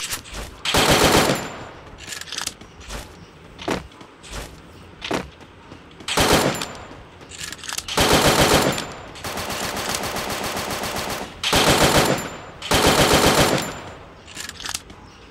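Rapid bursts of automatic gunfire from the Free Fire video game, loud and close, coming in repeated sustained volleys separated by short pauses, with scattered single shots and no talking.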